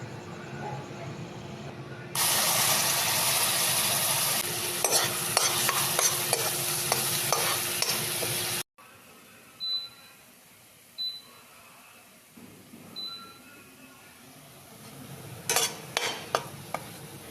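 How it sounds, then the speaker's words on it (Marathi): Garam masala, grated coconut, mustard seeds and cumin sautéed in hot oil for a Konkani-style cashew curry: a loud, steady sizzle for several seconds, then quieter stirring with scattered clinks of a spoon against the pan. "त्यानंतर आपला गरम मसाला, आपले खोबरं हे सगळं साहित्य टाकून घ्यायचं आणि छान आपण तेलात परतून घ्यायचं आहे"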